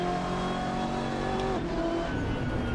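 Sustained race car engine note from the Assetto Corsa racing game with an audio sound mod, droning steadily and loud with a pitch drop partway through as the car shifts or lifts off, no voices.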